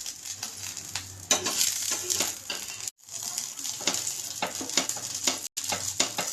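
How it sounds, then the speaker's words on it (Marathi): A dabeli bun brushed with ghee toasts on a hot pan with a steady, bright sizzle and frequent small crackles and pops, close and continuous, with two brief breaks. "आता आपण दोन्ही साइडून त्याला छान भाजून घ्यायचं आहे."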